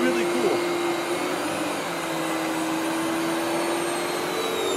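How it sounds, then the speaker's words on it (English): A Royal Lexon S20 canister vacuum runs on low suction with its power head switched on, giving a steady, loud motor whine with a constant tonal hum throughout. "I'm going to keep this one on low and turn the power head on."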